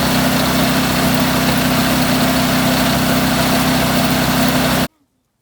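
A 1979 Sian single-cylinder diesel engine runs close and loud with a steady droning hum and vibration, then cuts off abruptly into silence near the end.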